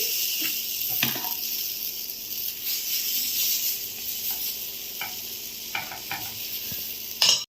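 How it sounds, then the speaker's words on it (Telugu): Karam rotti flatbread frying in plenty of oil on a low flame, a steady close sizzle with occasional stirring scrapes and soft clicks, no talking. "కాస్త చుట్టూ నూనె పోసుకొని లో ఫ్లేమ్లో కాల్చుకోవాలి"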